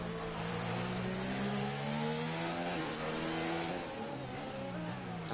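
Race car engines lapping the Monaco street circuit in a racing video game, a continuous loud revving drone with rising and falling pitch as the cars accelerate, no voices.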